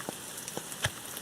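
Rain in the Shadowverse video game: soft, steady patter with scattered individual drops ticking on a surface, faint and close, no voices.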